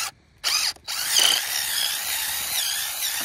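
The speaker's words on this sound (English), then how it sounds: "First hole is right here. And that drill bit's just a little small, but you can always go back in." A power drill bores a tap hole into a black walnut tree, a loud, close, steady whine that cuts out briefly near the start and then runs on continuously.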